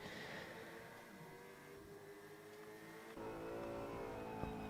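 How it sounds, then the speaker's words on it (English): Onboard engine note inside a V8 Supercar racing at Phillip Island, a steady faint harmonic drone that shifts pitch with gear changes and rises in level partway through, without speech. "You can hear the sound on the inside of these cars."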